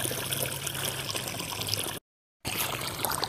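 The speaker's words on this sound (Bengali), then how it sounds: "জল চলে এসছে, জল পাবো এখন।" Water runs steadily into a field in a rural village, a constant rushing trickle close by with no talk over it.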